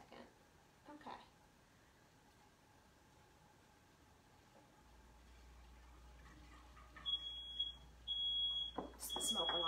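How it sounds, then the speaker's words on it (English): A kitchen smoke alarm set off by smoke from bacon cooked in a pan, chirping faint, high-pitched beeps near the end over a low, steady background hum. "Smoke alarm, hang on."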